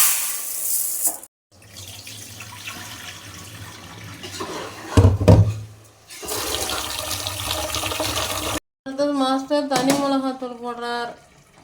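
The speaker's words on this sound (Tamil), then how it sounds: "இப்போ அரிசை கழுவிடலாம்" Rice is rinsed under running water for chicken biryani, a tap gushing and splashing in bursts with brief pauses between, and a voice speaking briefly near the end.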